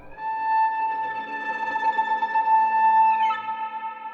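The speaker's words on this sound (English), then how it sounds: "I am also adding this scary violin effect sample from the Cashmere pack at the end of some of our" An eerie sustained violin-like tone from the Cashmere sample pack holds one steady pitch with faint overtones and a slight warble, sounding alone and close.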